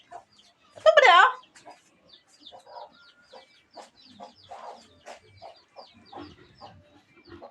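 Chicken clucking at close range, with one loud, drawn-out squawk early on followed by scattered softer clucks, mixed with people talking nearby in the background.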